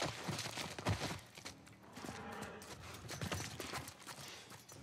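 Horse hooves clip-clopping in a video game, a quiet steady rhythm of hoofbeats on the ground with no speech over it.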